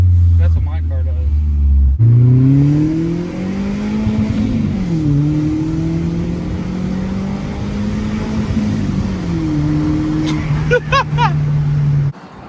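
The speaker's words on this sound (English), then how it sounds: "She's got some burbles." BMW M44 engine exhaust burbling while revving, a loud low drone that rises and falls with throttle, heard from inside the car with some talk and a few sharp pops near the end.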